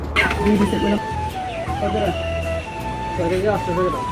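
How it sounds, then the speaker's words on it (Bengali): Chickens cluck and squawk steadily nearby at a chicken shop in a busy market, with people talking throughout. "তাই আমি চলে গেলাম আমাদের বাজারে একটা মুরগির দোকানে।"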